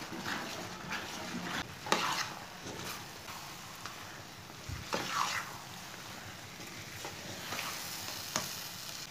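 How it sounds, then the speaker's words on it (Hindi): A spoon stirring carrot and vermicelli halwa in a pan on the stove, steady scraping strokes over a soft continuous sizzle, close and moderately quiet with no talking. "हलवे को लाजमी चम्मच चलाते हुए पकाना।"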